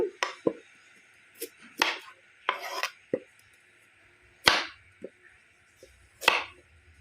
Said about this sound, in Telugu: క్యారెట్ కూడా చిన్న ముక్కలు చేసేసుకోవాలి